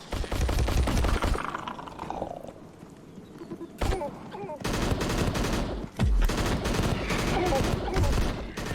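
Impaler weapon in the video game Crashland firing, with dense rapid gunfire bursts and roaring creature noises, loud and sustained with a brief lull midway.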